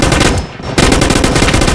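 Loud, rapid automatic gunfire in a gun fight arena video game, continuous fast bursts that break off briefly for a fraction of a second and then resume at full intensity.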